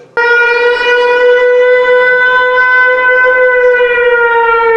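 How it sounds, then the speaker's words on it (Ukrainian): A civil defense air raid siren sounds during a training alert at a university dormitory, a loud steady wail starting abruptly and holding one sustained tone alone. "адміністрація вишу провела навчальні повітряні тривоги."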